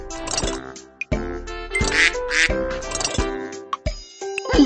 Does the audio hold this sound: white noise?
no